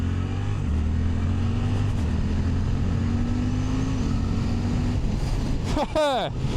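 A Suzuki GSX-8R motorcycle engine pulls steadily with a sustained loud drone and rising pitch, then eases off with a quick burst of revving near the end.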